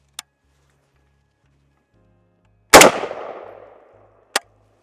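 An SA80 rifle, a US-made build running on excess gas, fires a single live round on a range: one loud, sharp crack with a decaying echo, framed by two faint clicks before and after.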